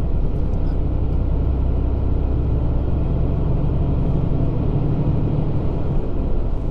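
A heavy truck's engine drones and revs steadily while labouring up a ramp, a loud, continuous low rumble with no voices over it.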